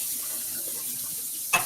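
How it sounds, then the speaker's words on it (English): A kitchen tap running briefly, a soft steady trickle of water filling a sink, quiet and close, ending with a short louder splash or clatter. "I'm gonna run water"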